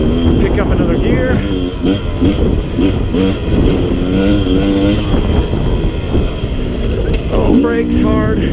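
A Sherco 300 SE-R dirt bike engine revving on a single-track trail, loud and close, rising and falling as it climbs through gears, with someone talking over it.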